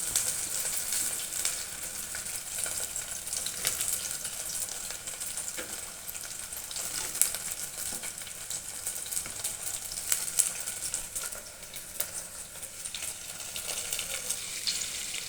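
Two green chillies frying in a pan for a lentil dish, a steady close sizzle that runs without a break, with faint stirring clicks now and then.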